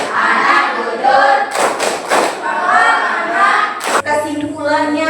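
A classroom of children doing a rhythmic clapping chant, with bursts of hand claps in a steady pattern mixed with sung and spoken voices from the class.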